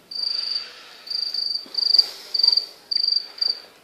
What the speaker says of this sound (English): can you hear crickets?